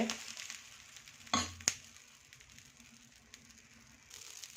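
Masala dosa batter frying on a hot pan, a soft steady sizzle that holds throughout at low volume, broken by a couple of short scraping or tapping knocks partway through.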